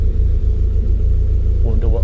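A Ford Escort's engine rumbles steadily and loudly from inside the car on a test drive after a dyno day, a low continuous drone with a voice talking over it near the end.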